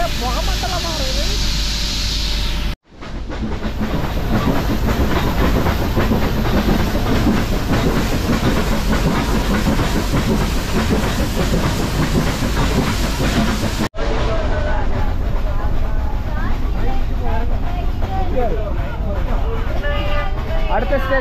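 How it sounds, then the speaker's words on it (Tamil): A steam-engine toy train on the Mettupalayam to Ooty line rumbles loudly and steadily, with a continuous roar and rattling carriages heard close by from onboard. "ஆவி பறக்குது, அப்படியே ஒரே புகமண்டலமா இருக்குது."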